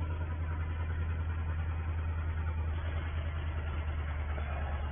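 A 1950 tractor engine working on a farm during barley sowing, running as a steady low rumble that holds at the same loudness throughout, muffled and band-limited like an old recording, with no voices.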